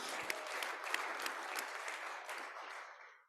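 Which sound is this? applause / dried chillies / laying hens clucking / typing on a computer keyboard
applause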